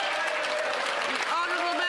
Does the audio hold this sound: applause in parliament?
yes